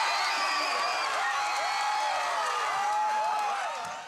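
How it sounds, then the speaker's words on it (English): Tens of thousands of rugby league fans cheer and whoop for the Cowboys homecoming, a dense, sustained roar of crowd noise with scattered shouts that fades slightly at the end. "the celebration was so emotional and the applause so thunderous"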